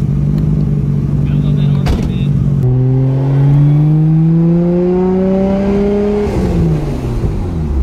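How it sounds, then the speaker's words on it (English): A Nissan Skyline R32 GT-R with a Mines front pipe and full Tomei titanium exhaust accelerates on the street, heard from inside as engine pitch climbs steadily through a gear, loud and droning, then drops off near the end. "Sounds so good. Yeah, it's got the Mines front pipe and a full Tomei titanium exhaust."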